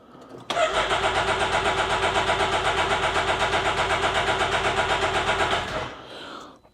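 A Can-Am Maverick X3 side-by-side engine cranks and catches, then holds a steady, loud, pulsing idle for about five seconds before shutting off and fading.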